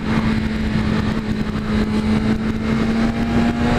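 A BMW S1000RR sport motorcycle engine pulling under acceleration while riding, a loud continuous droning hum with a steady tone and wind rush throughout.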